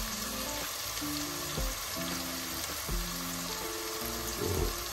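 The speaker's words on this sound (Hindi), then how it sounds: "तो इसको जो है हम अच्छे तरीके से लहसुन को भी भून लेंगे।" Garlic and green chillies fry in mustard oil for a fish curry, making a constant sizzle with occasional stirring knocks while faint tonal background music plays underneath.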